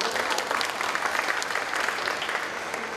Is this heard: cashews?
no